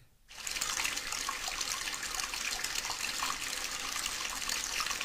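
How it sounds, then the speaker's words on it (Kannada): Water pours from a motor-pumped pipe onto a dry farm field in a steady, continuous rush that starts after a brief moment of quiet and holds level, near and fairly loud. "ನೀರು ಹೋಗ್ತಾ ಇದೆ ಮೋಟ್ರ್ ಆಫ್ ಮಾಡೋದು ಬೇಡವಾ"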